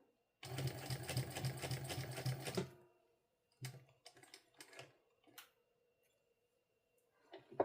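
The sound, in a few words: sewing machine stitching fabric for a sling bag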